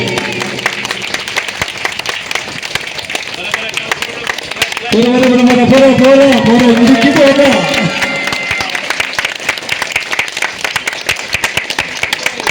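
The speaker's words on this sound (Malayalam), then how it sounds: "നല്ലൊരു ക്ലാസ്, മനോഹരമായ ഒരു കൈയടി." Audience applause at the inauguration of a cave house, a steady crowd clapping that runs throughout with a singing or speaking voice rising over it midway.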